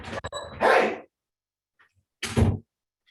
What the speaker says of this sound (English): yell at a couple dogs for just a moment